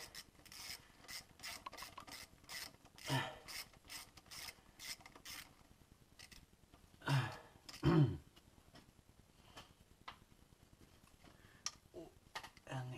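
Wrench loosening a 10 mm bolt on the fuel pressure regulator of a Volvo 940: scattered ratcheting clicks and scraping, with a few louder metallic clunks midway, close up and otherwise quiet.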